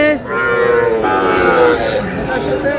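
A Sahiwal bull calf on a farm gives a loud, sustained moo that swells and carries on for nearly three seconds, close and clear, with a second lowing call overlapping near the end.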